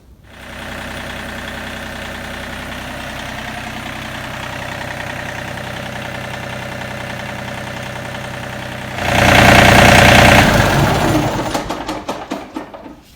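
A John Deere 3025e compact tractor engine starts and idles steadily with a low diesel chug, then briefly revs louder before dropping back down.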